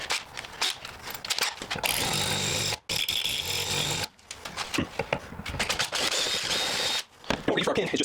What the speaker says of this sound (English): What I do is I take away the drill bit and just feed that hole real quick.